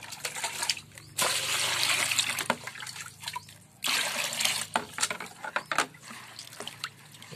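Water used to wash herbs is poured out in two long splashing gushes, with trickles and drips between and after them, close by.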